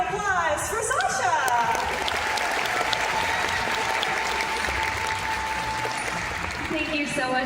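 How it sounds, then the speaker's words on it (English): Sustained audience applause at a Georgia Aquarium dolphin show fills the space for several seconds, steady and fairly loud, with a faint tonal hum running beneath the clapping. "And an even bigger Georgia Aquarium round of applause for Sasha."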